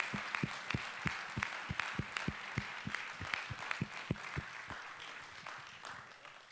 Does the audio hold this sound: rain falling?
no